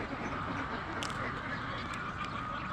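A flock of domestic ducks quacking, a dense continuous chorus of overlapping calls with a few louder quacks standing out close by.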